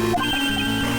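A cell phone ringtone playing in the Ace Attorney Investigations 2 video game, a brief dense electronic tone, loud and steady for about a second with no talk.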